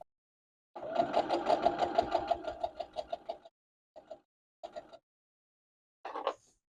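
A domestic sewing machine stitches a quilt block seam in a steady rapid run of needle strokes that slows and stops, then restarts for three short bursts with pauses between.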